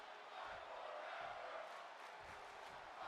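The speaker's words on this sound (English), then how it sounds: "the crowd's loving this one here as the Fight Forever chants erupt throughout the arena" Arena crowd in the wrestling video game WWE 2K22 rumbles and chants at moderate distance, a sustained murmur with rhythmic swells of voices rising through it.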